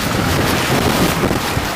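Strong ocean storm wind roars and buffets the microphone steadily throughout, with a dull rumbling turbulence and no voices, on a beach in Sri Lanka.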